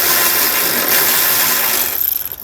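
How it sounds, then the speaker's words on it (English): A ratchet with a 15mm socket works a carriage bolt loose on Lippert SolidStep manual fold-down steps of a 2018 Forest River Rockwood RV, giving steady close mechanical rasping that breaks into short rapid pulses near the end. "we're just going to use our 15mm socket to remove it"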